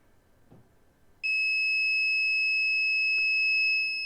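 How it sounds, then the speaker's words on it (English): An Arduino-driven timer buzzer set to trigger after sixty seconds switches on abruptly, holding a loud, steady high-pitched electronic tone after a quiet stretch of faint room noise. "we see the buzzer turned on and we can clearly hear the buzzer"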